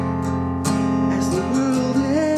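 A guitar plays the pre-chorus of a song in a short phrase of sustained, ringing chords with a sliding higher melody note, played alone with no talking.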